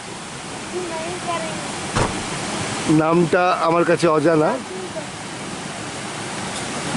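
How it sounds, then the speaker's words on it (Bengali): A waterfall beside the mountain road to Zuluk in East Sikkim rushes as a steady, broad wash of water noise throughout, while someone speaks over it in the middle. "জুলুক যাওয়ার পথে একটা জনৈক ঝর্ণা"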